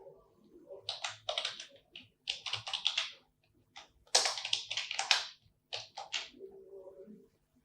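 Fast typing on a computer keyboard, clattering in several quick bursts separated by brief pauses, close and clear with no talking.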